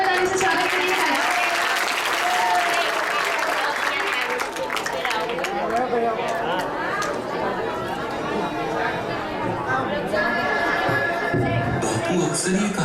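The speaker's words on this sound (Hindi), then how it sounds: "जोरदार ताली से स्वागत करिए राजू।" An audience at a Republic Day celebration applauds to welcome Raju's dance performance, loud sustained clapping mixed with crowd chatter and babble that carries on throughout.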